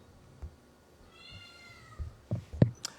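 A cat named Gaijin meows indoors, one drawn-out meow in the middle followed by a few short sharp cries and thumps, fairly faint and nearby.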